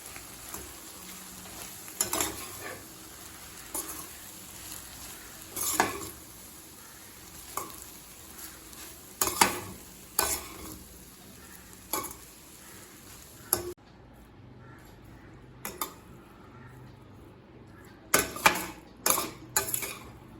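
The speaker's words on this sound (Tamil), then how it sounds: "எல்லாத்தையும் ஒன்றா நல்லா மிக்ஸ் பண்ணிக்கலாம்" Cooked rice is stirred into an egg and mushroom masala in a pan, producing repeated scraping strokes of a spoon at a steady rhythm over a faint, continuous sizzle.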